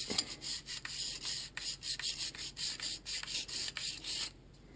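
A cleaning rod is pushed back and forth through the barrel of a CZ75B pistol, making a close, steady series of rough rubbing strokes in a quick repeating rhythm that stops near the end.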